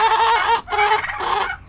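Turkeys on a farm, likely toms, give three loud, close clucking calls with short gaps between them.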